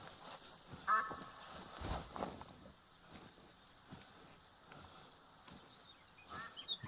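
Ducks quacking in the hunting game TheHunter: Call of the Wild, faint scattered calls set against a noisy outdoor ambience with occasional louder bumps.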